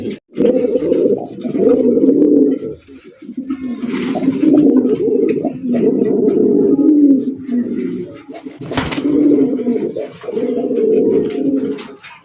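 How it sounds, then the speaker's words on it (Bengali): Rajgolla coloring pigeons cooing loudly and close, repeated deep throaty coos in long bursts with short pauses between. "আরো এক কালারিং রাজগোল্লা কবুতর দেখতেই পাচ্ছেন ডাকের কি গর্জন রে ভাই"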